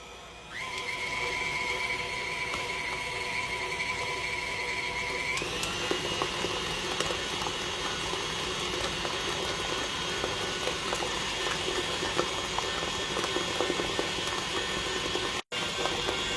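A stand mixer runs steadily, mixing Italian bread dough made with warm water, with a constant whirring motor hum and rattling gears that shift pitch after a few seconds, then a sudden brief cut near the end.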